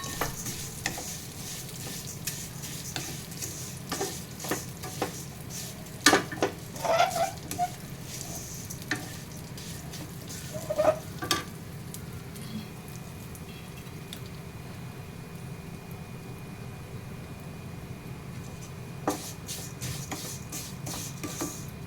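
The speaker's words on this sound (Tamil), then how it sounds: "இதை நெய்யில் வறுத்துடுறேன்." Vermicelli frying in ghee, a steady close sizzle with repeated scraping stirs and occasional sharper clicks of the spoon against the pan, continuing without talk.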